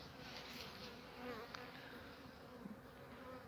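Anatolian honey bees buzzing around a hive during late-autumn checks, a soft, continuous hum with individual bees droning past now and then, faint and close, with no speech over it.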